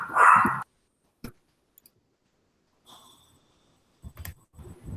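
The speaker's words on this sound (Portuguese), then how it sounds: "o cachorrinho do vizinho está latindo" A neighbor's small dog lets out a few sharp, high barks separated by silences, close by, with faint clicks in between, during a virtual meeting session.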